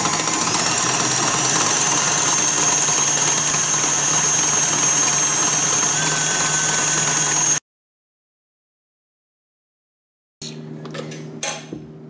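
An electric mixer whipping cream with sugar for a lemon cake runs as a loud, steady motor whine, then cuts out to silence, and a few clinks and knocks of bowl and utensils follow near the end.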